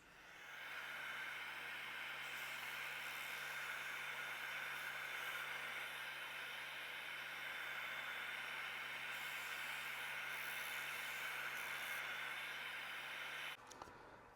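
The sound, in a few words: sander taking down a wooden molding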